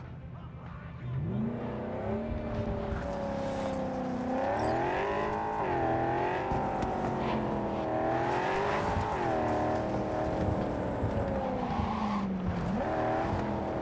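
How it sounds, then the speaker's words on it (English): A car drifts around a corner in Cyberpunk 2077, engine revving hard with rising and falling pitch while tires squeal and skid, loud and close for the whole stretch. "Little drifting there in the corner."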